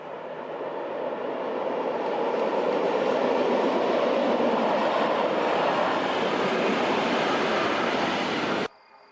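An electric train rumbles past close by, a broad steady roar with faint rhythmic clatter that holds for several seconds, then cuts off abruptly.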